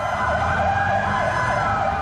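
The siren of a medical evacuation vehicle at a Polish military training ground wails loudly in a rising and falling tone, a continuous close warble with no talking.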